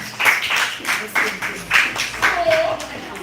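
Children in a primary school class clap together in a short, lively round of applause, with a voice heard briefly over the clapping.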